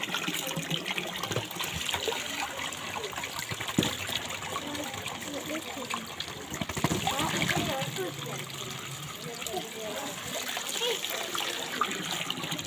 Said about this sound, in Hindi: अभी जो है हम इस बोतल के अंदर हम पानी डाल के हम इसको भरते हैं